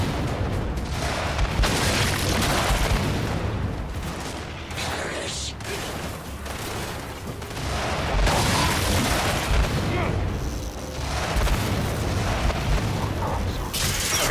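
Rocket launcher blasts and heavy gunfire in the shooter game Gears 5, booming explosions and mechanical weapon clatter in loud repeated bursts, with a voice talking over parts of the fight.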